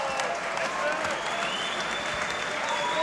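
A boxing crowd at a German professional bout between Jürgen Brähmer and Jürgen Doberstein applauds in a dense, steady patter of clapping, with a commentator's voice audible over the arena noise.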